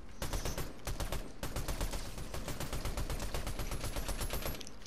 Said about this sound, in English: Okay, I'm driving towards gunfire.